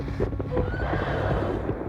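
Horses neighing and whinnying loudly amid a rush of clip-clopping hooves during a raid on a camp of tepees, the calls and hoofbeats overlapping in a busy, continuous din.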